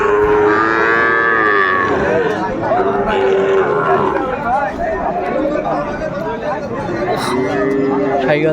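Sahiwal bull calves mooing repeatedly at a livestock market in Faridpur, loud, drawn-out lowing calls near and far over steady crowd chatter and bargaining voices.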